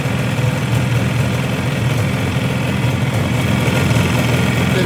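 A Yamaha RD350 motorcycle engine idles nearby at a raised idle, a loud, continuous buzzing putter with a fast, steady pulse and no speech.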